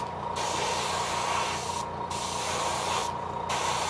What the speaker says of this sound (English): we are about done blowing this paint on here, or this glaze, right now